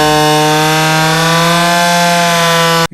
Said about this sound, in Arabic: من الصعب انك تتحكم في المنشار ده